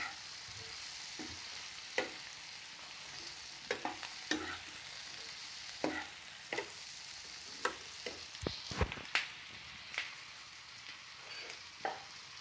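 Capsicum stirred into chilli potato frying in a pan, a steady sizzle under repeated close scraping strokes of the spoon, with no talking.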